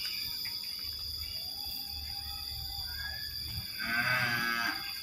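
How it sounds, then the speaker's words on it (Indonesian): Cattle moo at a distance on a dairy cattle farm in Sawangan, Depok, with a louder, closer low call near the end over a steady hum of insects and background noise. "Nah, di sini peternakan sapi."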